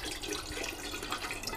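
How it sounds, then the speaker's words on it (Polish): Filtered water runs from a kitchen tap in a steady, soft rushing stream that continues evenly throughout, fairly quiet and with no voices. "wodę biorę zawsze filtrowaną"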